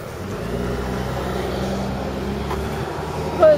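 A number 4 school bus drives past on a street, its engine a steady low rumble heard close by throughout, with a brief louder burst near the end.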